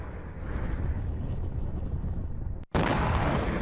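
A military strike in Gaza, reported in news coverage as a blast in a tunnel network: a sustained, heavy rumbling roar cut by a brief dropout, then a renewed loud burst.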